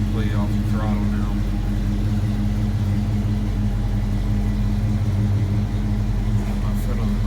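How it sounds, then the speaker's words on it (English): A 1987 Ford Mustang SSP idling with the throttle fully released, a steady low engine drone heard up close with a constant tone, and a voice speaking briefly over it. "I'll let off the throttle all the way to see if it would idle by itself"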